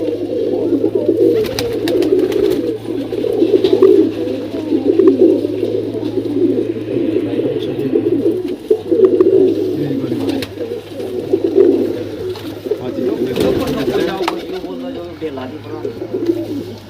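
Pigeons coo steadily and close by in a pigeon keeper's loft, where young pigeons are kept, with a constant low-pitched layered cooing throughout and occasional voices talking nearby.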